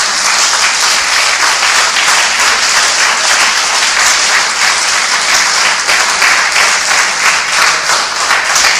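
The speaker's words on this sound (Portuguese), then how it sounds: "Aplauda ao Senhor." A church congregation at a morning service applauds the Lord with loud, dense clapping that holds steady and close throughout, with no talk over it.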